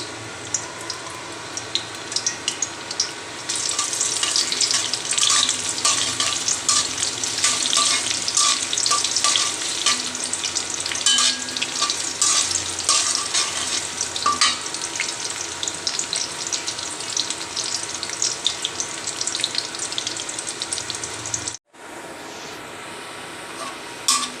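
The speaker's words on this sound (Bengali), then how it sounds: "তেলটা গরম হয়ে গিয়েছে এখন আমি দিয়ে দিচ্ছি পেঁয়াজ" A sliced onion sizzles loudly in hot oil for a Bengali tengra fish curry, a steady, dense frying hiss that carries on for about twenty seconds before cutting off abruptly, then quieter sizzling.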